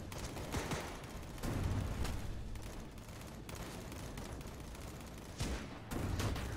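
Repeated gunfire aimed at the player in the Cactus Cowboy Plants At War video game, loud bursts and rapid volleys recurring throughout without any talk.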